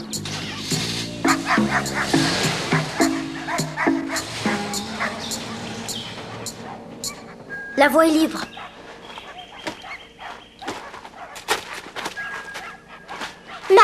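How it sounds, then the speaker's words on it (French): A guard dog barks repeatedly near a railway wagon, its yips and barks mixed with music and a voice speaking. "Mais arrêtez, il y a son chien de garde."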